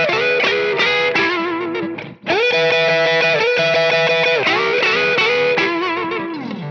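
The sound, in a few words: electric guitar playing blues shuffle lick in E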